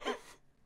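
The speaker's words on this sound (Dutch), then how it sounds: "Je hoort zo dat die hoest zo fake is als iets." A single throaty cough, close and short, trailing off into a brief pause before another sharp burst starts.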